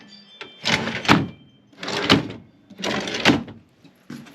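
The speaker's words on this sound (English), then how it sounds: "These are all latching drawers, so when you close them, they actually lock." Drawers with locking latches in a 1997 Winnebago Itasca Suncruiser motorhome shut one after another, four clattering thumps spaced about a second apart, close and fairly loud with no talking.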